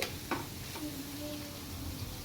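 Spicy boondi sizzling in hot oil in a kadai, a soft, steady hiss of frying at low volume with a couple of faint clinks and stirring sounds.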